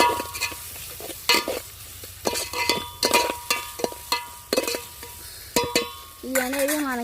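Tomato, onion and green chilli curry with chilli powder, salt and turmeric being stirred in a pan: repeated scraping strokes and clinks of a spoon against metal over a soft sizzle, close and fairly loud.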